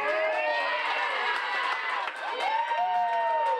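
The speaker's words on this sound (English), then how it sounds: "Northland Packers fans cheering for their team" Green Bay Packers fans at a local bar cheer on their team during the NFC Championship game against the Buccaneers, a loud crowd of shouting and whooping voices rising and overlapping throughout.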